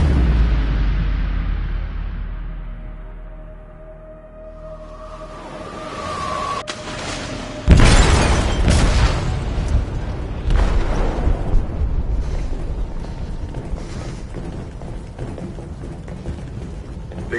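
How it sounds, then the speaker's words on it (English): An explosive detonates in a ship's hold in the video game Detroit: Become Human: a deep rumbling blast swells, then a loud crashing roar with metallic debris and clatter that slowly trails off. "They detonated an explosive in the hold."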